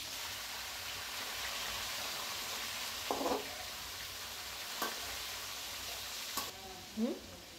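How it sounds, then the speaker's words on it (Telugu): Onions and chicken pieces fry in a pan for donne biryani, a soft continuous sizzle with a few brief clinks and stirring scrapes, quiet and close. "బాగా ఫ్రై చేసుకున్న తర్వాత మనము చికెన్ ముక్కలను అయితే వేసుకోవాలి"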